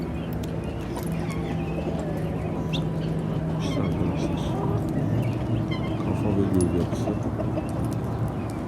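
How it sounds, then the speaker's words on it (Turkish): Guinea fowl on a farm give thin, scattered calls over a steady low rural din, with a faint hum running through and close voices talking at times. "Beç tavuğu."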